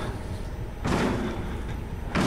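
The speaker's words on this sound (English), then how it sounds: "That's him banging on the door!" Someone banging on a door in the horror video game Outlast, heavy thuds arriving in bursts over a dark ambient drone.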